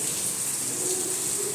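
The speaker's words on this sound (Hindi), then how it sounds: "रुक रुक के बारिश हो रही है" Intermittent rain falls in a steady, even hiss of moderate loudness, with no break in the sound and no talk.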